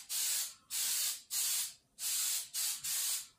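Aerosol can spraying galvanizing paint onto a welded metal dog-kennel fence in six short, evenly spaced hissing bursts, close and fairly quiet, with no voices.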